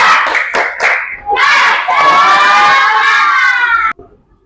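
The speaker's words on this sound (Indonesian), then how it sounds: "kita tepuk semangat dulu" Schoolchildren perform a rhythmic spirit clap chant in class, a few sharp group claps followed by a loud, sustained shouted chant in unison that stops abruptly.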